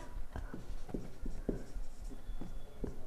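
A pen writes a formal letter on paper in a series of soft, rhythmic scratching strokes with short pauses between them, close and quiet, with no voices.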